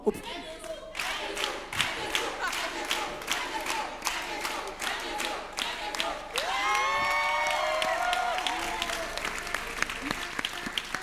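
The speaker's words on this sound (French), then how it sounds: "On peut encore applaudir le sponsor Movie." TV game show studio audience applauding the sponsor, dense steady clapping with cheers and whoops throughout, voices calling out over it in the second half.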